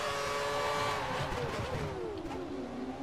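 An F1 car accelerates in the racing game F1 2013, a loud high engine whine rising and then easing in pitch, close and continuous for a few seconds.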